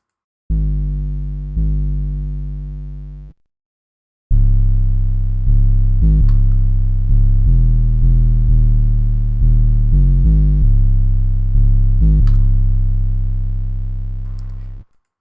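Deep, sustained trap 808 bass notes made in FL Studio, two long tones, a pause, then a steady run of pitched notes sliding between different pitches.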